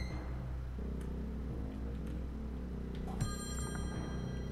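A telephone rings in the video game Friday the 13th: Killer Puzzle. A tonal ring starts late and rises clearly above a low, steady game-music bed, with no speech.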